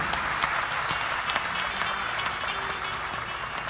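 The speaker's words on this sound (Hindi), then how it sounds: "एक ताली इन जवानों के परिवारजनों के लिए भी होनी चाहिए" An audience claps for the families of soldiers, a dense, continuous round of applause with a few sharper individual claps standing out, steady throughout and heard without talk.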